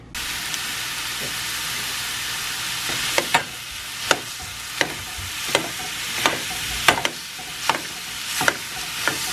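Bratwursts and scrambled eggs frying in a home kitchen, a constant bright sizzle with periodic sharp clicks and scrapes of a utensil stirring the pan, close and alone.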